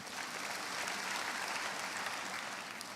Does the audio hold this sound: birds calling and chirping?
no